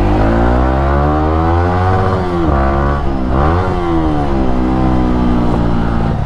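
A Yamaha R15 V3 with an aftermarket exhaust revs up and down continuously and loudly, up close, its pitch sweeping up and falling back several times without letup.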